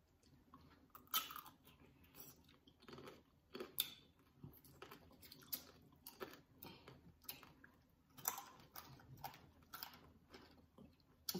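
Candied blackberry tanghulu is bitten and chewed up close, giving quiet repeated crunches of the hard sugar shell and soft squishy chewing in an irregular rhythm, with no talking.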